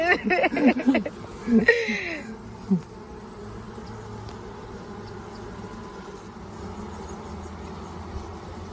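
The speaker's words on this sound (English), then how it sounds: "Lots of bees." Honey bees buzz around an opened hive during a March inspection, a steady low droning hum throughout, with a few knocks and handling noises early on.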